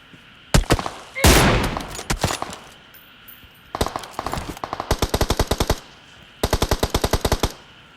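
Video game gunfire rings out loud and close, starting with single shots and then breaking into rapid automatic bursts in repeated volleys, with short pauses between them.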